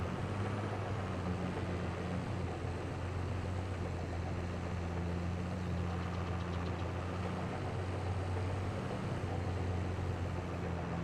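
A small yard tractor engine in Farming Simulator 22 runs steadily at a low, even drone and holds a constant pitch throughout, close and moderately loud, with no talk over it.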